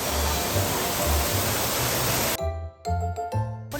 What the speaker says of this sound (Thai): ตอนนี้ก็เราจะเดินผ่านน้ำตกนะคะ เป็นน้ำตกที่เขาสร้างขึ้นมาเองเช่นกัน